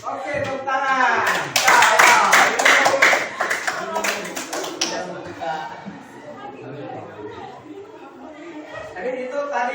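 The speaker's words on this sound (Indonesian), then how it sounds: "Oke, tepuk tangan." A classroom of students claps briefly after a group presentation. The scattered, close hand claps peak over a couple of seconds and mix with chatter and light laughter, then settle into talk.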